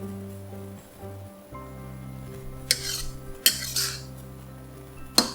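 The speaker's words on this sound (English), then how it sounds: "Give this a good mix." Metal utensil scraping and clinking against a pan as chicken is stirred with salt, soy sauce and turmeric seasoning, with a steady low hum beneath and several sharp scrapes toward the end.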